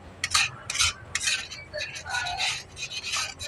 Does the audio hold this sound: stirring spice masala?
yes